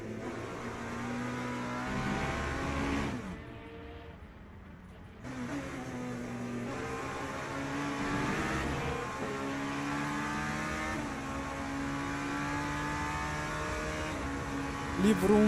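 Race car engines in the Le Mans Ultimate video game drone and rev continuously, shifting pitch through gear changes, with a brief dip before rising again, moderately loud throughout.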